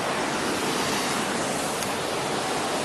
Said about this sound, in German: Hinter mir hat es so einen künstlichen Wasserfall.